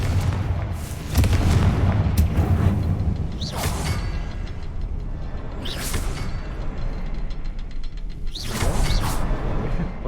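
Fiery Confringo spell blasts from the Hogwarts Legacy game, a heavy booming opening followed by several bright whooshing bursts spaced a couple of seconds apart over a rumbling low bed, loud and close with no talking.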